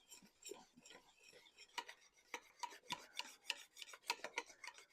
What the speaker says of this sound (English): All right, so I'm whisking this together to get it dissolved.